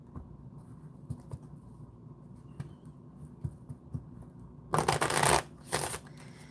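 Tarot cards are shuffled at close range, starting as soft scattered riffles and taps, then ending in a loud crisp riffle and a shorter follow-up burst, with no speech.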